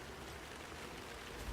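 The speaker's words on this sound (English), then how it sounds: "To hear the rain sound get dialed up there" Steady rain in the horror video game Alan Wake 2, a dense continuous hiss of falling water with no breaks and no voices.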